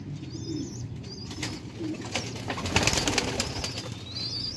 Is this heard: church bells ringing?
no